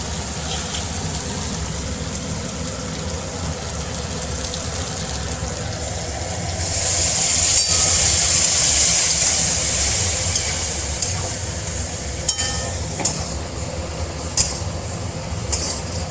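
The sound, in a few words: hot water added to fried meat, sizzling and stirring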